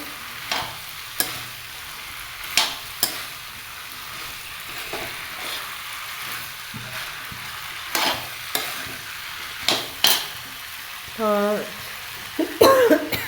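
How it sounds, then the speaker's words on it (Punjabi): Mixed vegetables with carrots are stirred in a frying pan, with a steady sizzle under repeated scraping strokes of a spoon against the pan and a few louder clatters near the end. "ਮਿਕਸ ਕਰ ਦਾਂਗੇ ਬਹੁਤ ਹੀ ਚੰਗੀ ਤਰ੍ਹਾਂ ਆਪਾਂ ਨੇ ਮਿਕਸ ਕਰਨਾ ਹੈ"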